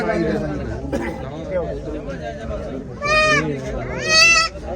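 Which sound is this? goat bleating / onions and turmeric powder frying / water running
goat bleating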